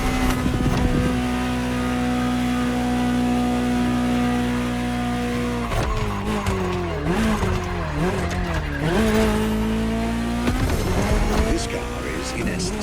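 Ferrari 288 GTO in The Crew Motorfest, its engine note sliding up and down with tires squealing through skids, heard over a steady game soundtrack with someone talking throughout.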